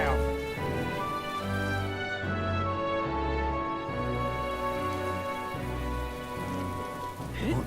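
Steady rainfall in the fantasy role-playing game Metaphor: ReFantazio, a continuous hiss of drops on surfaces running throughout under a loud tonal music bed.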